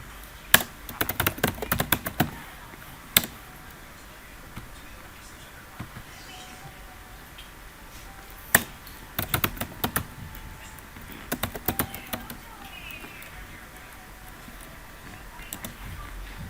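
Computer keyboard typing while Python print statements are entered, coming in irregular bursts of clicky keystrokes with pauses between, close and fairly quiet.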